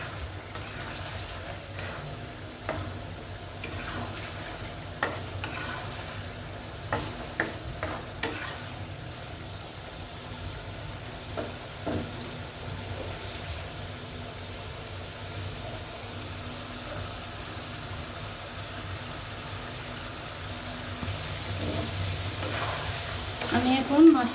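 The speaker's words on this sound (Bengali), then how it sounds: "তার জন্য মাছটি ভালো করে কষিয়ে নেব" Shoal fish being sautéed in a pan before bitter gourd goes in, a low steady frying sizzle with scattered spatula clicks and scrapes, close by, and a voice speaking over parts of it.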